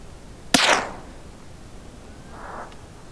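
A suppressed Ruger Precision .22 rifle fires once outdoors at a distant target, a single sharp crack with a quick hissing tail, then quiet with a faint far-off sound a couple of seconds later.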